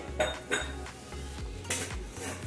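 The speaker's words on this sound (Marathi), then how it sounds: "ही प्लेट आहे आपली, ती आपण काढून घ्यायची आहे" A plate lid clanks against a cooking pot as it is lifted off traditional Wadval ukadhandi: yam and vegetables steamed over chillies in banana leaves on a gas flame. A few close metallic knocks and scrapes, no talking.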